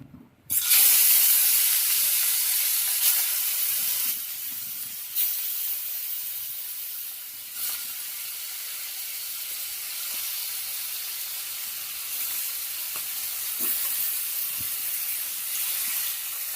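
Hilsa fish pieces coated in turmeric and salt drop into smoking-hot oil in a kadai with a sudden loud hiss, then settle into a steady, close, bright sizzle that continues alone throughout.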